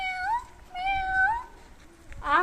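A child imitates a cat, voicing two rising, drawn-out meows close by with a pause between them, then a sharper third meow at the end.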